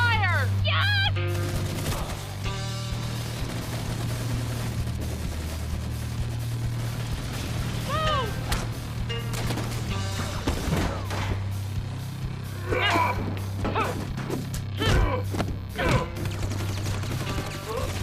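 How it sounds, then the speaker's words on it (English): Main cannon blasts and rapid gunfire ring out in a Red vs Blue battle from the Chorus war, a dense barrage of booming shots and crashes over a steady low drone, with voices shouting throughout. "Firing main cannon."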